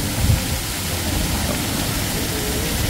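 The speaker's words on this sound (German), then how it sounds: "da oben kommt Wasser raus." Water gushes from a tipping round bucket above a slide at the Grand Canyon water park in Chiang Mai, a loud, continuous broadband splash and roar with no voices.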